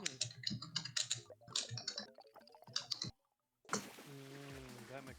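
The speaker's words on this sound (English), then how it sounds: "That mechanical keyboard something." Fingers clatter quickly on a mechanical keyboard in bursts of crisp, close clicks, then a short silence before a voice starts talking.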